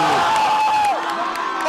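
Crowd cheering and shouting in a gym during the final minute of a close varsity boys' high school basketball game, a steady loud roar with a whistle-like tone early on and voices mixed in.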